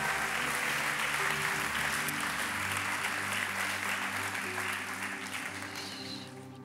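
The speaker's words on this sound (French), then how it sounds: "Can we give an applause to the word?" Steady applause from a church congregation fills a large hall, dense and sustained with a low music bed underneath, easing slightly toward the end.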